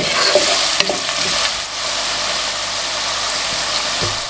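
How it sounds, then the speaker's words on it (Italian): Vegetables sizzle steadily in a pan for Tuscan Christmas crostini, with a broad continuous frying hiss and a few soft scrapes of occasional stirring, close and fairly loud throughout. "Lascio andare le verdure per 5 minuti, mescolo di tanto in tanto."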